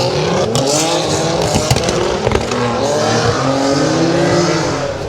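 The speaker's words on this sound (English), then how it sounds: "The cars warming up as they come down the hill in the assembly area" Race cars at Goodwood Festival of Speed, including a 1971 GT AM and a Porsche 911, rumble and rev as they roll down the hill through the assembly area, steady engine drone with rising and falling revs, close and loud.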